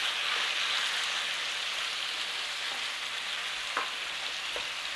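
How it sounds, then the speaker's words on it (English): Seasoned minced meat with black pepper browning in a pan for a Guinness shepherd's pie, a steady soft sizzle and crackle with a few faint stirring scrapes, close and continuous without talk. "we're just going to whiz it round in the pan until it's browned."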